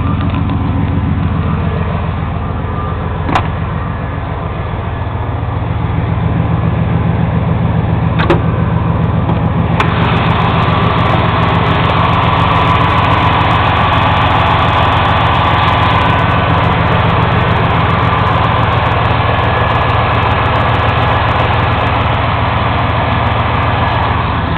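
A 1992 truck with a 350 engine built in Fort Wayne, Indiana idles after a cold start, giving a steady low rumble throughout, with a few brief clicks or knocks early on.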